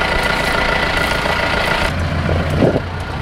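A Mahindra Roxor utility vehicle engine running on a farm, a steady close mechanical drone with a brief change in tone partway through, no talking.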